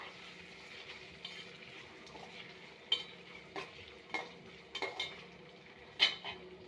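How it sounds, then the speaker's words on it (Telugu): Onions frying in plenty of oil in a pan, a faint sizzle beneath irregular clinks and scrapes of stirring utensils against the pan, close up and without talk. "కొంచెం ఆనియన్ కొంచెం బాగా వేగాలి కాబట్టి కొంచెం ఆయిల్ ఎక్కువగానే పడుతుంది"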